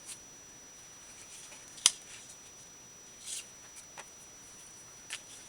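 Scissors snipping paper for a quilted journal: a few faint, sparse cuts, one sharper snip standing out, in a quiet room with no talk.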